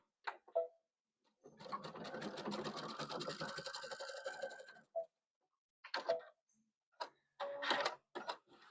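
A sewing machine stitches across a placemat, giving one sustained run of rapid mechanical chatter for a couple of seconds, followed by short separate bursts of stitching, all close and fairly quiet.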